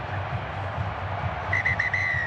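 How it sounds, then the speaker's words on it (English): A referee's whistle ends an All Blacks v Fiji rugby test in San Diego, sounding as a clear, shrill tone that sets in partway through, with short breaks, over a constant stadium crowd roar. "And he blows his whistle to end the game."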